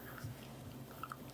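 Soft, close chewing and faint clicks on a straw carry through the clip over a low background hum, with no talk.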